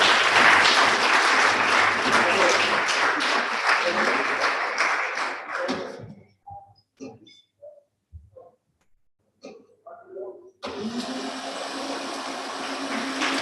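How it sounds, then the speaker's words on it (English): Applause at the national launch of a model manifesto for political parties in Kenya, loud and sustained for about six seconds, then a near-silent gap with scattered faint sounds before a steady noisy stretch resumes. "Let's congratulate all our stakeholders with a round of applause."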